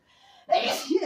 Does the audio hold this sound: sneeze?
yes